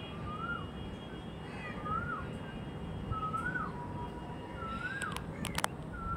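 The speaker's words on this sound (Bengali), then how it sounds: "কোকিলের ডাক, আরও আলাদা আলাদা পাখির আওয়াজ" A koel calls repeatedly in the morning, its rising whistled notes recurring every second or so at moderate distance over a steady hum of background noise, with other birds faintly around and a few sharp chirps near the end.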